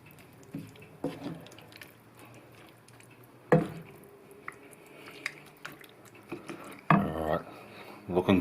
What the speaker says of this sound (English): I'm just going to just gently stir that through a little bit